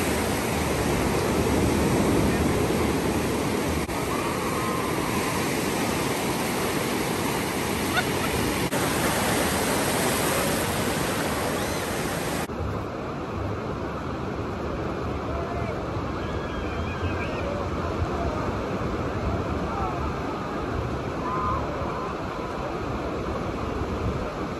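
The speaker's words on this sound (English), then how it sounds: "Look at this big wave, you guys, and it's coming our way." Big ocean waves crash and wash onto a seaside beach in a steady, loud roar of surf, with wind buffeting the microphone and people talking nearby.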